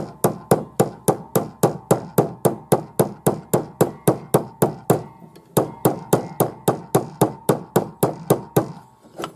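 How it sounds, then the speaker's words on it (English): A plastic hammer shapes a metal bangle for a hollow pearl bangle, striking close by in a steady, even rhythm of about thirty blows with one brief pause midway. "what I'm going to do is use the plastic hammer"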